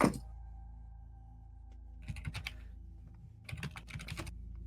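Bursts of keys being tapped on a computer keyboard in a quiet room, a brief flurry followed by a pause and then a second, longer run of quick clicks, fairly close.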